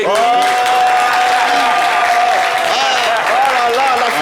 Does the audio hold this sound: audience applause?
yes